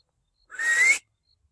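A person gives one short, sharp whistle outdoors to call animals in, a single rising tone lasting about half a second that stands alone against near silence.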